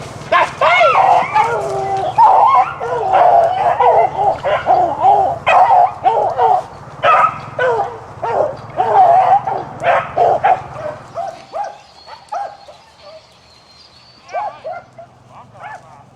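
Hunting dogs at a Louisiana rabbit hunt bark and yip in a dense, excited chorus, loud and close, with people talking nearby before the barking thins out into scattered yelps.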